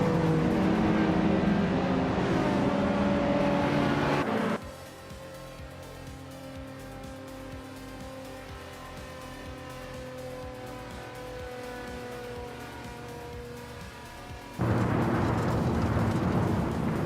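Race car engines drone steadily in a sim racing game, with harmonic engine tones that shift pitch as the cars accelerate and change gear, loud at first, dropping quieter in the middle, then loud again.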